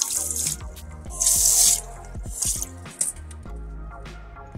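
Water runs from a bidet's hot and cold mixing valve tap, a steady rushing flow that swells louder in bursts as the tap is adjusted, with no talk.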